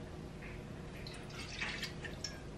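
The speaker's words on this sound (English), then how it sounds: "Add water" One cup of water trickling and dripping into a pot on a stovetop set to medium heat, faint and close, with soft splashes in a quiet kitchen.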